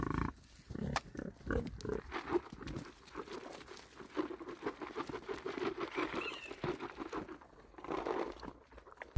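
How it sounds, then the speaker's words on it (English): Pigs on a farm, snuffling and grunting close by amid shuffling and crunching as they root around, fairly loud and irregular. "the most enjoyable and easy animals on the farm at the moment are the pigs"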